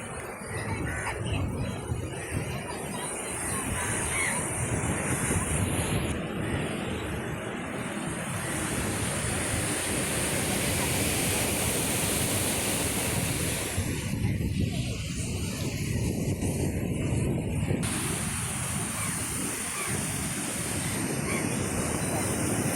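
Rough sea waves pound the eroding Kerala coastline during a storm surge, a continuous loud roar of surf mixed with gusty wind buffeting the microphone.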